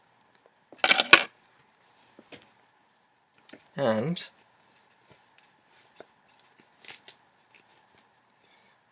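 Scissors snip through yarn while a knitted sock is grafted, giving a few short, crisp cuts in a quiet room, with brief spoken words and soft handling noise around them.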